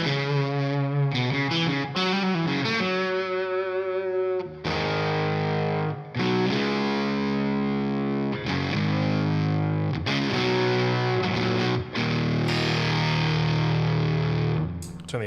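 Electric guitar played through a Beetronics Octahive fuzz pedal, thick buzzy distorted chords and riffs with brief pauses between phrases, loud and close, no talking.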